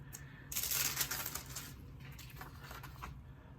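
Old washi tape pieces pulled apart up close, a papery crackling tear that swells briefly and then trails off in softer rustling.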